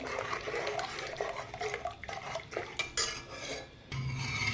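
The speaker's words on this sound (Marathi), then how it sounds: "इथं बघा मी सगळं पिठाच्यामध्ये रवा सोडलेला आहे. एकसारखं असं ढवळत राहायचं आहे आपल्याला" A spoon stirs semolina into batter for rava papad, giving uneven soft scraping and sloshing strokes against the pot, close and fairly quiet with brief pauses between strokes.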